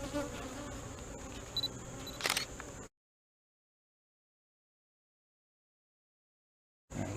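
Honey bees buzz steadily during an open beehive inspection, a close, continuous hum with faint handling knocks, broken by a long stretch of silence before the drone briefly returns.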